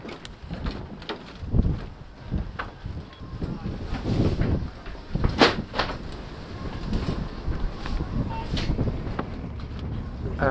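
Irregular knocks and creaks over wind noise and a low rumble suggest a boat on the water, with scattered thuds and no speech.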